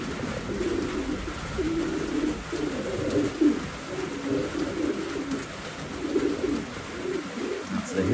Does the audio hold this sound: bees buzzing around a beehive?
no